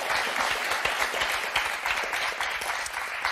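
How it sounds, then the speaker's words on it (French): A studio audience on the French game show Motus applauds two contestants, a lively crowd clapping with distinct individual claps standing out, continuous and close for the whole span. "on va vous applaudir."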